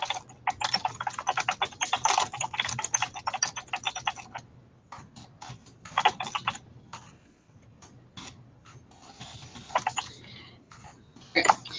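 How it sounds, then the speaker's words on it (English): Close, rapid clatter of typing on a computer keyboard comes in bursts of keystrokes, dense at first, then sparser with pauses, in a quiet room. "I'm going to type that in there."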